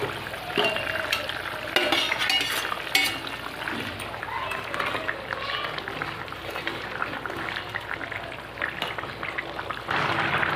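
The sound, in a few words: eggplant pieces added to simmering rohu fish curry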